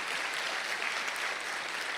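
A church congregation claps at a Sunday service, steady dense applause filling the room throughout at moderate level, with no voices standing out.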